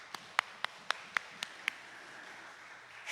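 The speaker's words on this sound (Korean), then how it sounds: "우리 박수 한번 주십시오." Church congregation applauding the kitchen volunteers at a Friday late-night prayer meeting: seven or so sharp, evenly spaced claps in a quick steady rhythm, fairly faint and distant, then fading into quiet room tone.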